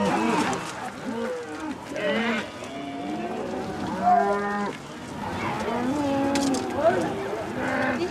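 Several cattle moo repeatedly on a farm as they are herded inside. The long, drawn-out lows overlap and rise and fall over several seconds, while people talk nearby.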